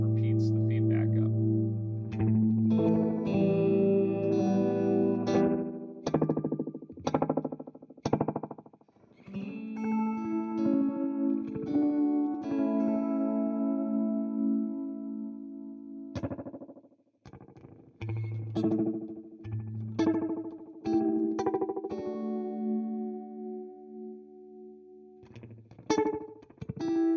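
A Morley vibrato delay pedal with its repeats and feedback turned up runs a played guitar through warbling, pitch-wobbling echoes that smear and trail between loud strummed phrases, with the repeats stacking into a swirling wash.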